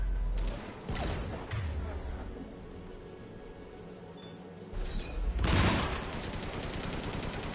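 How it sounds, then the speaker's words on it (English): AA guns in the video game Mass Effect 3 fire in bursts, two loud rattling volleys with quieter mechanical game ambience between them, no speech over the firing. "AA guns ahead."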